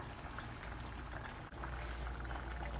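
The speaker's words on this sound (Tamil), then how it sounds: "இன்னும் ஒரு 5 நிமிஷத்துக்கு இந்த குருமா நல்லா கொதிக்கட்டுங்க" Thick egg kurma gravy bubbling and simmering in a pot, a close, continuous low bubbling with one brief dip midway.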